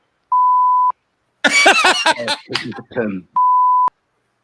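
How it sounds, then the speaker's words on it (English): Two steady censor bleep tones, one before and one after a short burst of talk, each about half a second of loud pure tone. "He says 2 words, you just go beep."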